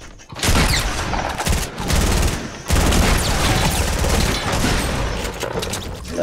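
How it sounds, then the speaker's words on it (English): A submachine gun firing in the Fortnite video game, with loud sustained bursts of rapid automatic fire broken by a couple of brief pauses, continuing almost throughout. "I've got the best submachine gun ever."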